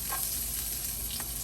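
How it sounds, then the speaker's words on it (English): Chopped garlic, parsley and celery saute in a pot, a steady close sizzle with brief stirring scrapes and no talking. "I'm going to add this to our pot and start to saute everything down."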